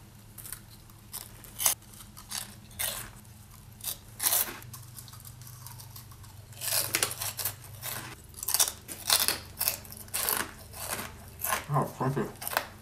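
Crunchy, spiced Baken-Ets pork skin snacks crackle as they are chewed close up, with a run of sharp crunches and bites coming in irregular bursts and some quiet murmuring between them.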